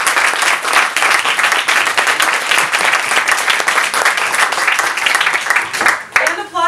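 Loud, dense applause from an audience welcoming a performer at a live show, continuous clapping until it breaks off near the end when a voice speaks.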